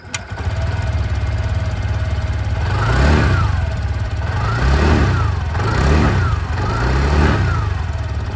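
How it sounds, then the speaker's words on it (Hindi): A TVS Jupiter 125 scooter with a metallic muffler cover idles steadily, then gets revved in several repeated bursts, the exhaust note rising and falling close to the listener. "चलिए जो एग्जॉस्ट साउंड है ये भी मैं आपको सुना दूँ।"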